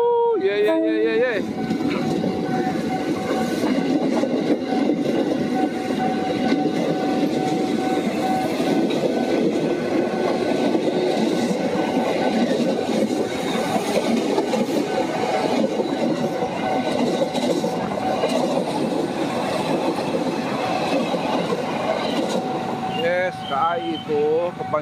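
An Indonesian train rumbles past steadily at close range, a continuous loud roar with rhythmic wheel clatter and a faint squeal near the end.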